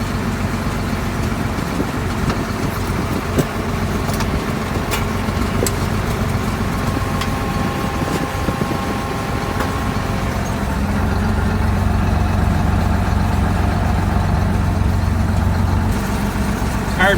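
A 1975 Thiokol DMC snow groomer engine runs steadily at idle with a low rumble throughout, while track work goes on nearby, with occasional clanks and a slight rise in engine level partway through.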